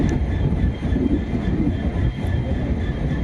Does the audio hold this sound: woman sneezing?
no